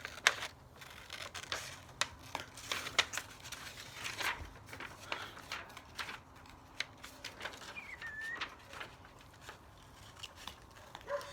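Scissors cut a handprint out of construction paper, a close, quiet series of crisp snips and paper rustles in an irregular rhythm with no talk.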